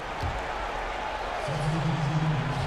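Steady arena crowd roar from an NBA 2K19 basketball game, Lakers versus Houston, filling the background with a continuous wash of noise while a voice is faintly present, plus a brief thump near the start.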